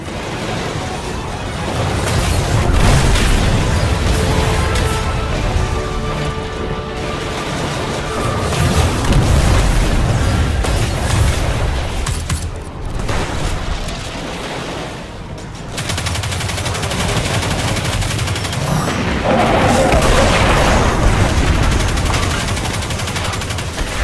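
Loud, sustained gunfire and booming explosions from a Destiny 2 firefight in the Prison of the Elders, with steady rapid shots and heavier blasts throughout, no speech.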